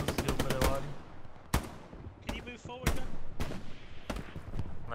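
Gunfire in the World War II shooter Hell Let Loose, with a rapid burst of shots at the start followed by several loud, separate sharp cracks spread across the moment, heard over faint voices and background noise.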